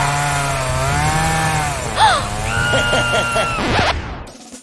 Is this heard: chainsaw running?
yes